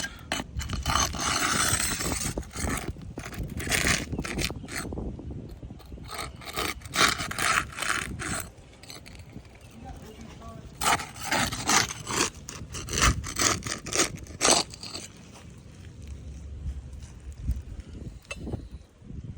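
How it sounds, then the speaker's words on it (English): A flat spatula prying and sliding under asphalt roof shingles to break their seal, giving repeated close scraping and rasping strokes in uneven bursts, with no talk. "I'm gonna use a spatula to lift up the shingles."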